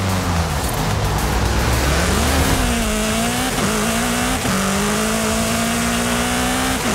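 Porsche engine in Forza Horizon 5 revs and shifts through gears with a steady loud drone, tires squealing briefly as the car races without pause through the whole stretch.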